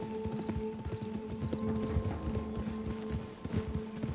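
Horse hooves clop in a steady galloping rhythm in the video game Red Dead Redemption 2, continuous rapid beats under a low sustained musical drone, fairly close.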